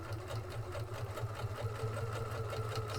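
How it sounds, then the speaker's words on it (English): A Creative 1.5 sewing machine runs steadily, stitching a buttonhole in reverse with a continuous, close mechanical hum and a rapid, even needle rhythm throughout. "we're just going to do a buttonhole going backwards, and it should stitch on the right size for that button"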